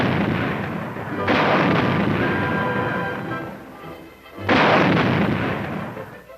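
Booming blasts from the high-velocity 90mm gun of M48 tanks on a Mojave desert range: a loud first report with a rolling tail, then a second heavy shot near the end, no talking.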